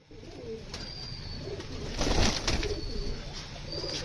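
A pigeon coos softly and repeatedly close by, with a low rhythmic burble over quiet background noise and a brief stir of fluttering around the middle.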